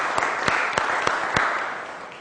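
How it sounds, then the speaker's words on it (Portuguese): Applause from an audience as a speaker steps forward to give closing remarks, a continuous bed of clapping with a few sharp, louder individual claps standing out at regular intervals. "já recebendo os aplausos!"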